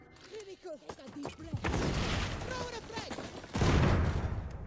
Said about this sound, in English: there's so many flashbangs going off